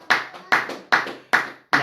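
A church congregation claps in a steady unison rhythm, five sharp, evenly spaced claps close and loud, with faint voices beneath.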